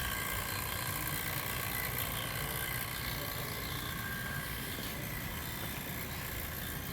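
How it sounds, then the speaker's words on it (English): A house vacuum pump running on a Charles Ross DPM 2 mixer setup, a steady dense mechanical drone with continuous broadband hiss, constant in level from start to end and heard alone. "Here's our vacuum pump. This is our house pump. We're using this to test."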